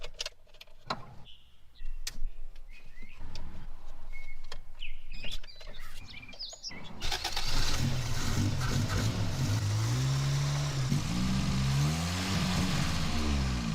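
A car engine, after the distributor pickup polarity was corrected, starts and settles into a loud steady run with rising and falling revs, following a stretch of clicks and handling noises nearby.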